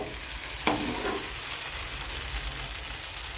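After being flipped, a thin semolina sheet cooks in an oiled pan with a continuous, even sizzle and one brief scrape from the flip near the start, close and steady, no talking.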